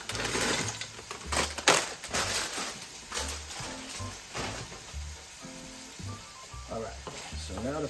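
Sausage and pancetta fry in a pan over medium heat, giving a steady close sizzle with scattered pops and scraping clicks as the meat is stirred.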